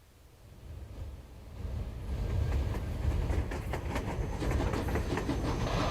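A railcar in the video game Metro Exodus rolls along the rails. Its low rumble builds from quiet to a steady, loud drone with rhythmic clicking of the wheels.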